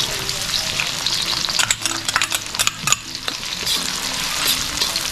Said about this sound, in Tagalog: Maggisa muna tayo ng bawang at sibuyas.